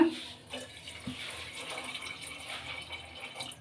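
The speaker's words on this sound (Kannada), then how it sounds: "ಸ್ವಲ್ಪ ಇದಕ್ಕೆ ನೀರು ಸೇರಿಸ್ಕೊಳ್ಳೋಣ" Water is poured into a pan of mango gojju made with sugar baby mangoes, a brief, fairly faint splashing gush that runs for a few seconds with no voices.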